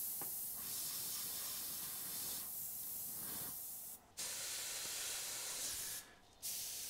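An airbrush sprays paint over a stencil in steady broadband hissing bursts, with two brief pauses where the airflow cuts off completely before resuming, close and continuous.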